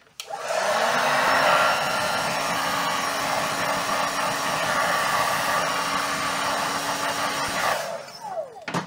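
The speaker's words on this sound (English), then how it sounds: "I'm gonna flash heat it, or heat set it, and let it go here." Heat gun blowing hot air to flash-dry and heat-set paint on a fishing lure, a steady loud whooshing roar with a constant fan whine lasting about seven seconds before cutting off.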